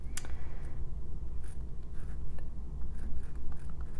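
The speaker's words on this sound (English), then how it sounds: "I'm just going to write at the top here." A pen scratching across paper up close, in short irregular strokes over a low steady background hum, with no talking.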